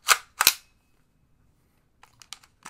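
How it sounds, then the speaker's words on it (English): Cocking handle of an HK MP5 replica gun pulled back, giving two sharp close metallic clacks followed by a run of faint small clicks. "Got a cock back mechanism right here."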